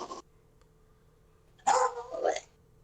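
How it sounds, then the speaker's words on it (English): A dog barks in two short bursts, the first brief and the second longer and louder, close by with a quiet gap between them. "Will you stop barking at me?"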